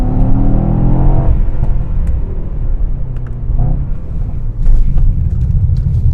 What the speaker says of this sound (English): let's put the car in race mode and go up some